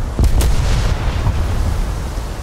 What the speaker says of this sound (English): Give a full broadside here in a second.